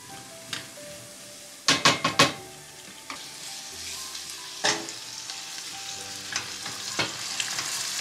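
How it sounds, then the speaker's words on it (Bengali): Spice paste for a potato and shrimp curry sautéing in a pan, a steady close sizzle broken by sharp clattering stirs and scrapes of a utensil, with no talk. "এখন এটাকে হালকা একটু মশলার সাথে কষাবো"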